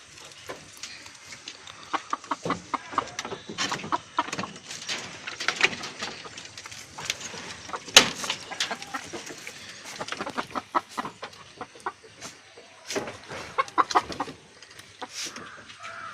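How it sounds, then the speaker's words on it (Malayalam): Chickens in a low-cost coop cluck and squawk in a busy, irregular stream of short calls, close by, with scattered rustling and a sharp bang partway through. "ഇതിൻ്റെ അകത്ത് കോഴി ഇട്ടിട്ടുണ്ട്"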